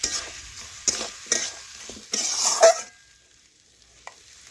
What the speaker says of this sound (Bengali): এখন ঝিঙে ও আলু ভালোভাবে মশলার সাথে একসাথে মিশিয়ে আবারও 10 থেকে 15